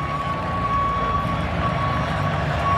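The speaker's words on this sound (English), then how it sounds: "You hear the beeping out there? It's like the big truck backing up." A truck's reversing alarm beeps at a 2023 college football stadium during an NC State versus Wake Forest game: a steady, high, repeating tone with short gaps rises over a dull background of crowd and ambient noise.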